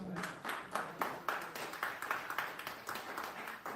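Sparse, quiet clapping from a small crowd at a Thornton Township meeting, a handful of irregular hand claps heard faintly in a room, with no talk over them.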